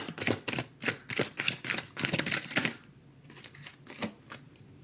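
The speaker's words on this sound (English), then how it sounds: "Let me just do one more shuffle." Tarot cards riffle-shuffled in a quick burst of crisp, rapid flutters for nearly three seconds, then a few softer, scattered card taps as the deck settles, close and clear with no talking.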